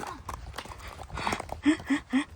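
A horse's hooves clip-clop as a groom leads it through an equestrian dressage training yard, with scattered voices early on, then three loud, evenly spaced hoof strikes close by near the end.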